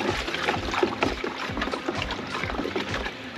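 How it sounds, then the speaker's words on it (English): Malachite green being stirred into a koi pond with a stick, water sloshing and splashing continuously with soft rhythmic swirls, fairly close and steady throughout, no voice. "give it a quick stirry-stirry with the special stirring stick"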